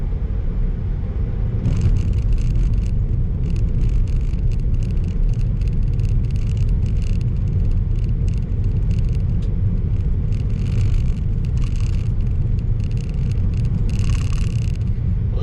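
A Tesla Model 3 rolling along a dirt gravel road, a loud steady rumble of tires on loose surface with scattered crackling of stones pinging under the car throughout, no talking.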